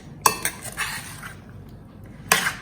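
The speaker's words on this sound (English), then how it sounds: "And then the paneer, 250 grams. And mix." A spoon stirring 250 grams of paneer in a bowl for tikka, giving a few sharp clinks and scrapes of metal against the bowl, close and fairly quiet, with gaps between the strokes.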